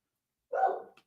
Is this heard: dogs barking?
yes